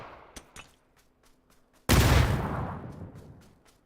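A grenade explodes during a competitive video game match. A few sharp gunfire cracks lead into one loud, heavy blast with a long rumbling decay.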